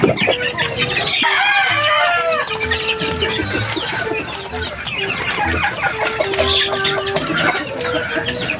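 White Kelso gamefowl chickens cluck steadily and loudly close up, with a rooster crowing and other birds chattering in a busy farmyard chorus.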